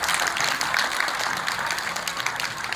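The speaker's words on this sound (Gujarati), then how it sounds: "કલાકારો તાળીના ભૂખ્યા હોય છે." An audience applauds at a comedy play on stage, with dense, steady clapping from a crowd that carries on evenly throughout and stays fairly loud.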